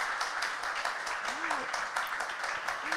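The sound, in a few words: audience applause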